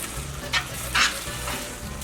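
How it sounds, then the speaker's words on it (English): Melted queso cheese dip with meat being stirred in a pan, soft sizzling under a couple of brief scraping spoon strokes, close and alone with no talking. "Let's stir up this queso."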